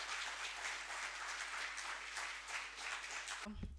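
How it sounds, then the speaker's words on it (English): An audience claps steadily in a sustained burst of applause to welcome a speaker onto a stage, fairly faint and even throughout, ending with a brief thump. "Can we have a huge round of applause to welcome him on stage?"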